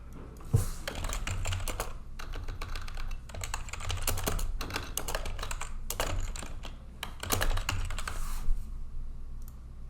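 Fingers type on a computer keyboard close by, with rapid clusters of clicky keystrokes broken by brief pauses and a couple of heavier key hits, over a faint low hum and no talking.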